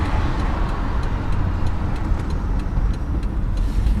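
A Chevrolet El Camino V8 with a Holley carburetor idles steadily nearby, a dense continuous low rumble with a faint ticking running through it, and no voices.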